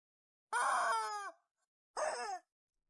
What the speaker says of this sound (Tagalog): Masakit na sigaw ng manok.